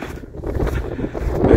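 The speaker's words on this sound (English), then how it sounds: "It's very windy" Strong gusty wind buffets the microphone on a snowy, icy mountain pass path, a steady rushing roar with no voices.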